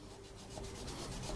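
Fine sandpaper rubs back and forth against a small metal lock pick, a quiet, close, steady scratchy sanding with no talking.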